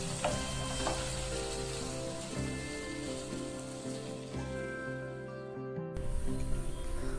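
Pepper chicken fries dry in a pan with a loud, steady sizzle and crackle that carries on without a break, shifting slightly as the pieces are stirred.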